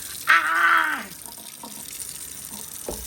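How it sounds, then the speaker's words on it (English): Water gushes from a newly repaired kitchen faucet into the sink and down the drain after ice storm pipe damage, a loud steady rush for about a second, then fading to faint trickles and small splashes. "Both sides going. Water going down the drain."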